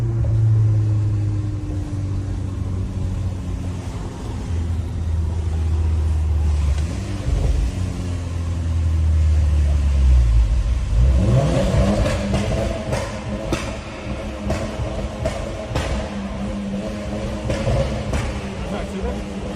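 A Volkswagen Golf 6 R accelerates hard, its engine note rising in pitch with a gear change and then roaring on loudly and close, with voices talking over it.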